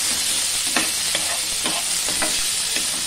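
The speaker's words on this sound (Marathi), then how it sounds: "थोडं परतून घेऊया" Cauliflower and potato bhaji sizzles in a pan on low heat, with a steady loud frying hiss and a rhythmic series of spatula scrapes and stirs, no talking.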